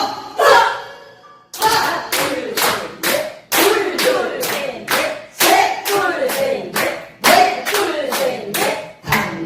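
Group clapping in a Korean traditional-music icebreaker class, coming in sharp rhythmic bursts of synchronized claps after a brief spoken opening, loud and close.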